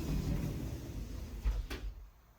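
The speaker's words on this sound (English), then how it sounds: "when you open this drawer, you have to be very careful" An IKEA PAX wardrobe drawer slides open with a low rumbling glide, followed by a short knock or thud near the end, close and fairly quiet, with no talk.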